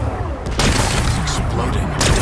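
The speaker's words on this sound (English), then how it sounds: "Gotta blast away some rocks, so I can expose the power cell." Rock-blasting explosions in the video game Horizon Forbidden West, a dense rumbling burst of booms and crackling debris that stays loud across the whole stretch, with a fresh blast near the end.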